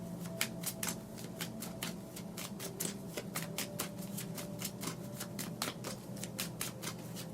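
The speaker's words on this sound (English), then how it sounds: "I'm going to pull one more card for that, actually, just to get a little bit more on that message." Tarot cards shuffled by hand in a quiet room, a steady run of crisp, close riffling flutters and soft card slaps with no talking.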